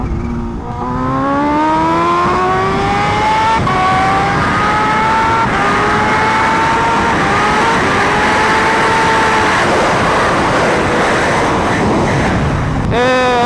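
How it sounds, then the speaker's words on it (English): Kawasaki Ninja H2 motorcycle pulling hard in a high gear, engine pitch climbing in long rising sweeps through several shifts, loud and close with wind roar, ending in a brief rev. "I wanted to do a higher gear pull, just to show you guys that H2 power"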